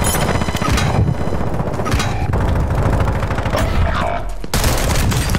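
Rapid gunfire exchange in the video game Call of Duty Warzone 2.0, loud and continuous with dense overlapping bursts from several weapons and only a brief lull near the end.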